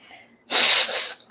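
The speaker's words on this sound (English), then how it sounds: "Cough in a bottle." A person coughs once: a single short, forceful, breathy burst standing alone against quiet.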